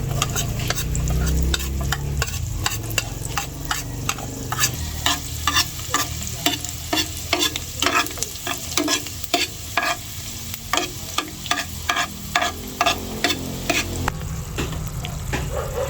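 Garlic for a buffalo chicken wing sauce fries loudly in a pan, a dense crackling sizzle broken by frequent rhythmic scraping strokes of a utensil stirring, with no voices.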